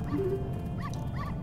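A dog whimpers and yips in Zelda: Majora's Mask during a dog race, a few short, faint calls over a steady game background hum.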